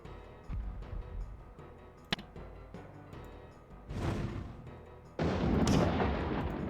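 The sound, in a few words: cannon fire in Warhammer video game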